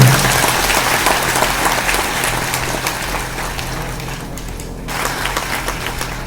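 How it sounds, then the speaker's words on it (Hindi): An audience at a DXN company team-building seminar claps loudly and steadily throughout, dense continuous applause that dips briefly before picking up again. "जबरदस्त ताली होनी चाहिए आप लोगों की।"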